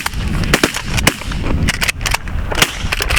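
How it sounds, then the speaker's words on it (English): Shotgun blasts aimed at flaring geese during a snowy blizzard goose hunt, a rapid volley of sharp close cracks spaced irregularly over the wind-filled outdoor background. "Shoot them."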